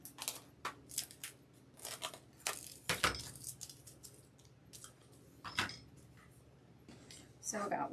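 Scissors cutting pieces for a bee wreath on a cutting board: quiet, irregular crisp snips and small clatters, scattered sharp ticks with a couple of louder knocks.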